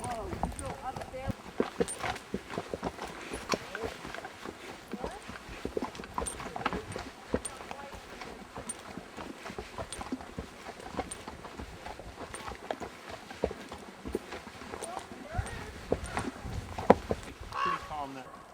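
Horses near Bryce Canyon plod along with a steady, close clip-clop of hooves on the ground, continuing for the whole stretch under a constant rustle, with people talking at times.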